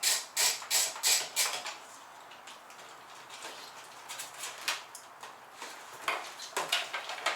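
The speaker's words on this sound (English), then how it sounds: "there's a screw down in here to take out" A screw is worked out of a motorcycle's lower vented fairing, giving faint, close metallic ticks and clicks in quick little runs with quieter gaps between them and no talking.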